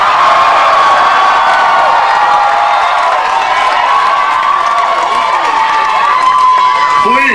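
A grad night hypnotist show crowd bursts into loud, sustained cheering and applause, whoops and high shouts layered over continuous clapping throughout.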